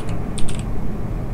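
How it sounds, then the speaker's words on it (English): Keyboard typing in the horror game Amanda the Adventurer: a short burst of several crisp key clicks, close and clear over a steady low hum, with no talking. "I want to try typing Amanda right here."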